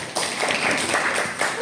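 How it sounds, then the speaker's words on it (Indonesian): Brief round of clapping from a group in a school classroom during a teacher supervision session, several hands slapping together fairly close and steady for under two seconds. "tepuk tangan ya"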